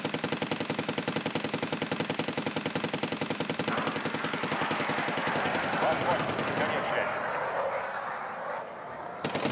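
Automatic fire in the war game Red Dragon, a rapid, relentless burst of machine-gun shots pulsing evenly and loudly for most of the stretch before thinning out near the end, with talk underneath.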